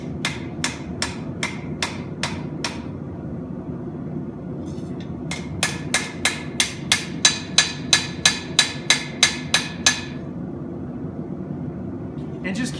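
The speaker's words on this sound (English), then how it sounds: "that's when you try to locate it on the anvil and just lightly tap it down" A hammer lightly taps a hand-forged knife edge down on an anvil in two bursts of sharp, ringing metallic strikes, about eight quick taps, a pause, then a longer steady run, over a low background rumble.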